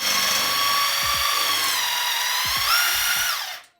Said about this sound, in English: we just use a drill, simple socket on the end, and then yeah, drive the pump really